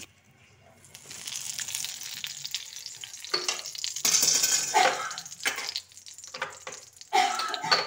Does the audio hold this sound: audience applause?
no